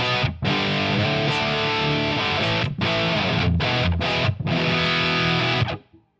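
A heavily distorted electric guitar plays through the STL Amphub amp sim plugin in a dense, saturated, old-school death metal tone. Sustained chords are cut by brief palm-muted gaps and fade out at the end.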